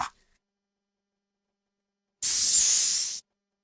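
A single close, one-second hissing spray of all-purpose joint oil lubricant from a can, following a brief faint sound and near silence.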